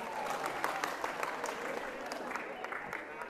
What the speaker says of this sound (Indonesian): Tepuk tangan buat Sinta.